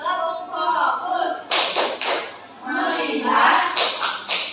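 A classroom group performs the tepuk fokus clapping game, with bursts of rhythmic hand claps and taps broken by chanted voices, close and fairly loud.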